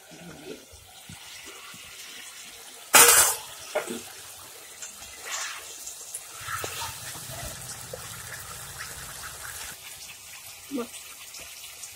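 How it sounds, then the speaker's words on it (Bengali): Water poured into a cooking pot in a home kitchen while making koi fish curry with cauliflower, a sharp brief splash and gush near the start followed by quieter trickles and kitchen clatter, close by. "ঢাকনা উঠিয়ে একটু জল দিব"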